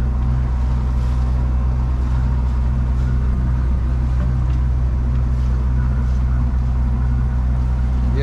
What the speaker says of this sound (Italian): questa tratta me la sto facendo col motore e la vela, motor serie